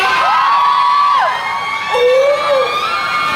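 A crowd lets out loud, high-pitched screams and whoops in two bursts, the first long and sustained, the second shorter after a brief dip.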